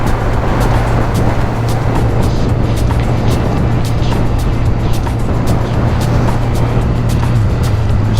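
Honda CBR1000RR sport motorcycle on the move, a steady loud engine drone with rushing wind noise running continuously throughout, no voices.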